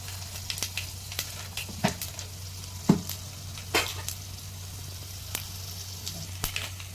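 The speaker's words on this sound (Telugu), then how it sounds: "ఎండుమిరపకాయలు, కొద్దిగంత కరివేపాకు, కొద్దిగా దూరగా వేగే వరకు వేయించాలండి." Mustard seeds, urad dal and chana dal sizzle in hot oil for a chili chutney, a low steady fry broken by scattered sharp pops and crackles of seeds bursting, close and clear.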